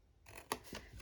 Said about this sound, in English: I'm just going to cut there